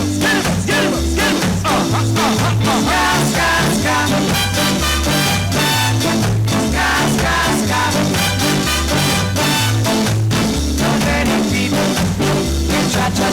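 Ska played by a full band: loud, steady music with a driving rhythmic bass line and bright offbeat chops running continuously throughout, with no voices over it.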